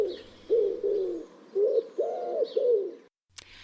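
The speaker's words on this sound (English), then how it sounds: "that wonderful cooing is surely one of the most peaceful sounds you can hear wherever you are outdoors" Pigeon cooing outdoors in a garden, a series of about six soft, low, hooting coos, close and clear, ending with a brief faint click.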